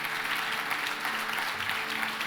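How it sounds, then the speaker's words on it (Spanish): A church congregation applauds during a sermon, with steady, dense clapping from a crowd that stays even for a couple of seconds, with no talking. "puede darle un aplauso a Dios"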